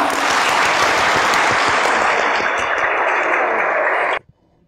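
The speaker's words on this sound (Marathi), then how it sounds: "टाळ्या." A crowd bursts into dense, loud applause that holds steady for about four seconds and then stops abruptly, with no voices over it.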